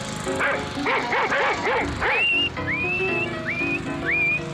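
In a comedy song recording, a dog barks five times in a quick rhythmic run, followed by four rising whistles, all close and loud over a steady musical backing.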